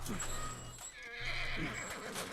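A horse in The Last of Us neighs loudly and close in two whinnies, with hoof clopping and a low game drone underneath, while a voice talks over it.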